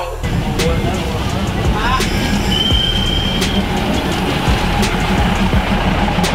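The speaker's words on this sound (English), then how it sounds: "Oh, the train is coming." A train in Samut Songkhram, Thailand, rolls past close by, loud and continuous, with wheels squealing and metallic clatter along the rails.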